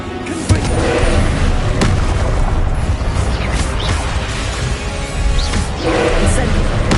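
Confringo explosion spell cast in Hogwarts Legacy, a sharp blast burst amid continuous loud game combat noise with rumbling effects, dense and busy throughout.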